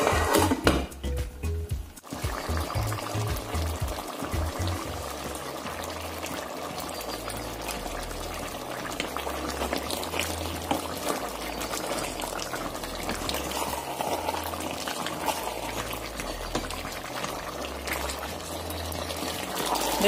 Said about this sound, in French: Je vais donc fermer et laisser bien mijoter à feu d'eau